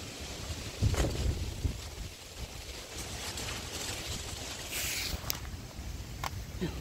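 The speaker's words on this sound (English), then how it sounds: "because it's still windy out here." Gusty wind buffets the microphone outdoors in the aftermath of Hurricane Lee, a steady broadband rush with brief harder gusts, close and fairly loud, no voices.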